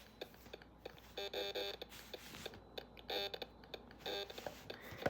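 An electronic meter screeches in harsh, pulsing bursts that rise and fall irregularly against a hissing background.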